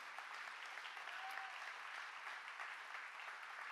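A church congregation applauding persecuted Christians around the world, a steady, dense clapping from a crowd that holds evenly from start to finish.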